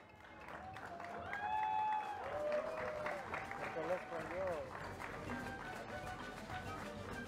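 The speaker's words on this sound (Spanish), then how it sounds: "Un aplauso, por favor" Audience at a school music, dance and theatre festival in Vegachí applauding in a moderate clatter, with voices and a few whistled or sung tones mixed in, continuing steadily at medium distance.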